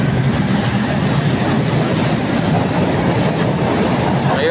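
Light rail train at Quirino station in Manila running steadily and loudly throughout, with a continuous dense roar and faint rhythmic clatter of wheels on track, no voices.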